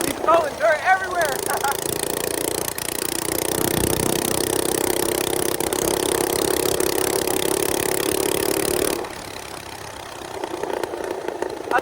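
A minibike engine riding on dirt with the rear tire slipping, a loud steady buzzing drone for several seconds that drops away near the end, with a voice briefly audible at the start.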